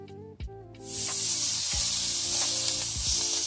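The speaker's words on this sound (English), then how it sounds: "this griddle's ready to make some bacon" Bacon strips hit a new Blackstone griddle and a loud, even sizzle bursts up and holds steady, with a few soft clicks and scrapes at the start.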